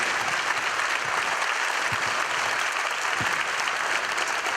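A crowd gives a sustained round of applause for military veterans, dense and steady clapping that holds at an even level throughout.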